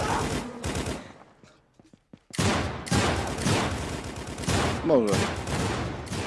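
Rapid bursts of gunfire and a grenade blast from a VR shooter video game, loud and dense, broken by a short lull with scattered shots before heavy firing resumes; a voice speaks briefly over it.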